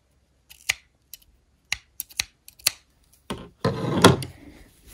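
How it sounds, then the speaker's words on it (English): Scissors snipping yarn ends on a knitted hat, several sharp close clicks spaced irregularly, followed by a short burst of rustling handling noise. "you can just snip your ends"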